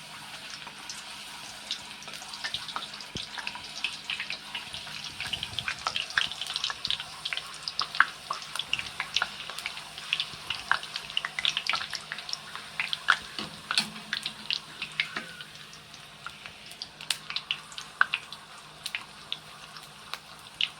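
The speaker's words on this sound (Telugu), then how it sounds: "ఇప్పుడు నూనె వేడెక్కింది, ఒక్కొక్కటి వేసుకుందాం" Wheat appadas dropped one by one into hot oil fry with a steady broadband crackle and hiss, dotted with sharp pops and bubbling bursts throughout, close and continuous with no talking.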